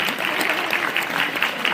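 A crowd at an electoral reform rally in Victoria, BC, applauds with dense, steady clapping that is fairly loud and continuous throughout, with no voices over it.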